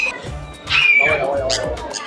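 Harsh parrot squawks sound close by, short and shrill, as parrots fight overhead at an animal farm, mixed with scuffling and a voice talking.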